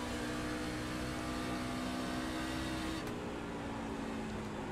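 An iRacing NASCAR Class C race car at Rockingham holds its engine at full throttle, producing a loud, steady, unbroken drone whose tone shifts slightly about three seconds in.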